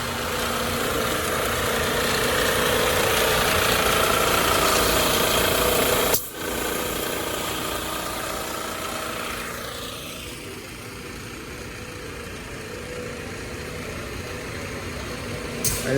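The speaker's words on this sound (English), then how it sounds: "now we're getting set up with the HTC 800, and Jeff is going to run that grinder in a clockwise pattern around the perimeter" An HTC 800 floor grinder runs on concrete with a steady, dense roar and a brief dip partway through before it settles into a slightly quieter drone, loud and close, with no talking.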